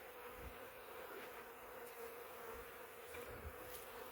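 Honey bees buzz around an overwintered hive in early spring, a soft, steady, fairly faint drone with a few closer passes and no talk.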